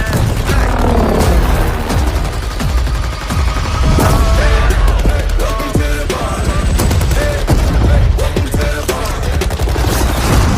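Automatic gunfire in a battle royale video game, loud rapid bursts of shots with booming impacts and scattered mechanical clatter, dense and continuous throughout.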